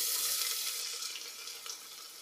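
Chopped onion frying in clarified butter for a spicy mutton curry, giving a steady, close hiss and crackle that continues without a break and without any talk.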